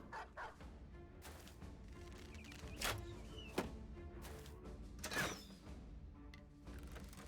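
Dogs in the medieval tactics game Battle Brothers bark repeatedly in sharp, scattered bursts, mid-distance, over a low bed of battle noise and clanking mechanisms, with no talk.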